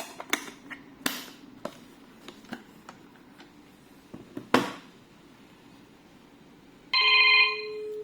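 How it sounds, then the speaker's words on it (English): A 4G fixed wireless landline desk phone rings for an incoming call: a short burst of electronic ringing near the end, following scattered taps and clicks. "This is a phone call from outside."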